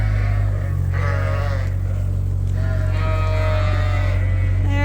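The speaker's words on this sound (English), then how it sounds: "Breakfast time for the pampered sheep." Sheep bleating indoors in a barn at breakfast time, several overlapping wavering calls over a steady low mechanical hum, fairly close and loud with no talk.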